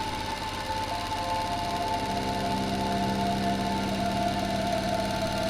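Steady mechanical engine drone with a tonal hum, running continuously at a constant moderate level throughout.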